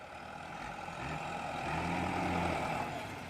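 A farm tractor engine runs close by at a steady, heavy low rumble that grows slightly louder through the middle, near a dirt pit where dump trucks are working.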